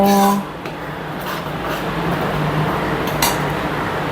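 Salt being stirred into a pot of prawn curry, with soft scraping and light clinks of a spoon against the pot, fairly steady and close, with a few faint voice-like tones at the start.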